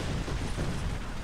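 Continuous rumbling blasts and explosions from the tank battle video game War Thunder, loud and dense with low booming energy throughout, no voices over it.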